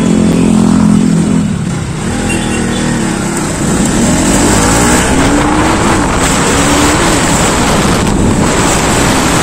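A motorbike rides along a road, its engine droning and rising in pitch as it revs, heard close under heavy, steady wind rush with no talking.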